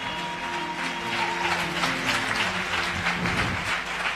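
A church congregation applauding and acclaiming during a French-language worship service, sustained clapping and raised voices from a full room over held organ or keyboard tones.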